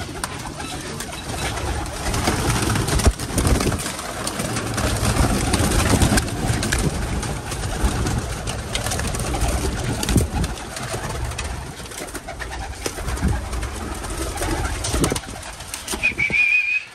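Pigeons cooing and fluttering nearby, steady and fairly loud, with a constant low background rumble throughout.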